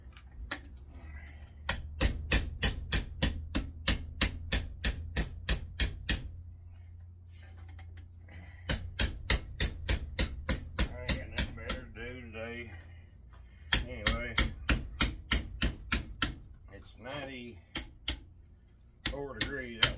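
Sharp metallic hammer strikes on a chisel while breaking apart a scrap copper motor inside a hot metal building, coming in fast rhythmic bursts of a dozen or so blows separated by pauses, with someone talking between the bursts.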